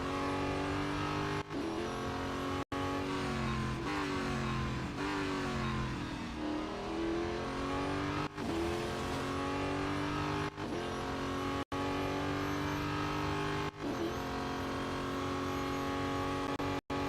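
Race cars in the mobile game Real Racing 3 roar continuously with steady, loud engine drone, rising revs and brief gear-shift dips repeating every second or two, with no talking.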